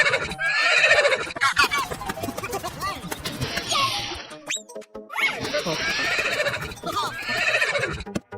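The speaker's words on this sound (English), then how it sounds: "Horse." A cartoon horse neighs with a long, loud whinny in two bursts, bright and wavering, separated by a brief pause with a rising squeak between them.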